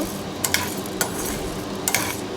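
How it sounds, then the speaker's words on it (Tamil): Chana dal frying in a pan for a garlic podi, a steady broadband sizzle running throughout with a few sharp clinks of a stirring spoon against the pan, with no talking. "ப்ரௌன் கலர் வர வரைக்கும் நல்லா ஃப்ரை பண்ணி எடுத்துக்கோங்க"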